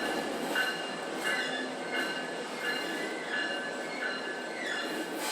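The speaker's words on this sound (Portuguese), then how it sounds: "Todo dia esse horário passa trem aqui em casa" A train passes near a house, its wheels squealing in repeated high tones over a low rumble, with periodic clacks at a steady distance and no voices.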